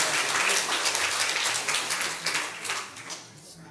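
A crowd claps for a graduating student at a school graduation ceremony, a lively burst of many hands with individual sharp claps standing out as it gradually thins and fades.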